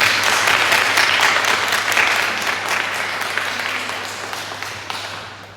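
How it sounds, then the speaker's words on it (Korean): Sustained applause from a congregation filling a church, a dense wash of clapping that slowly fades toward the end, with a low steady hum beneath. "우리 예언이 참 이 기회에 한번 박수를 한번"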